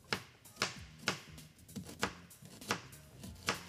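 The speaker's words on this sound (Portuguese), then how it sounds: "Vou começar picando meia cebola." A knife chops half an onion on a cutting board in an irregular rhythm of about a dozen crisp, close taps, each a sharp knock with a short woody thud and no talking over it.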